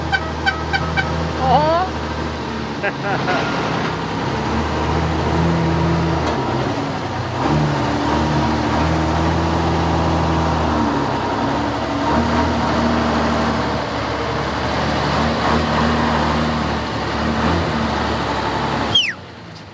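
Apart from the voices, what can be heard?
old truck engine running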